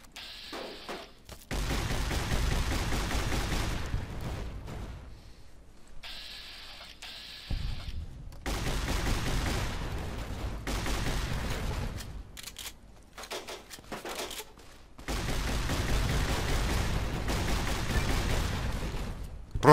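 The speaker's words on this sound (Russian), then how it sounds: "Кто-то меня стреляет." Bursts of gunfire aimed at the player in Fallout: New Vegas, dense crackling volleys coming in several long stretches separated by brief quiet gaps, loud and continuous with no talking.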